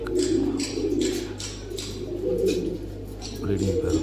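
Fancy breeding pigeons coo in soft, repeated bursts at a pigeon farm, close by and layered over a low mechanical hum.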